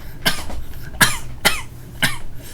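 Four harsh coughs in a row, close and loud, spaced roughly half a second apart.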